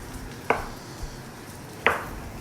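A knife chops tomatoes on a cutting board, two sharp, separate thuds about a second and a half apart, close and fairly loud against a quiet kitchen background.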